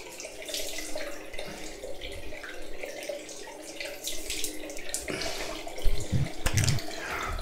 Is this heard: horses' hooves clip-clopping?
no